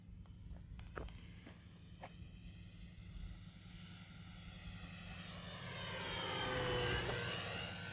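An FMS 1450mm P-51 radio-controlled model airplane flies at altitude, its engine tone faint at first and then swelling as it sweeps closer, with a few light clicks and taps nearby early on.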